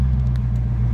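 A Chevrolet Corvette C4 engine runs at a steady idle just after starting, a close, continuous low rumble with no talk over it.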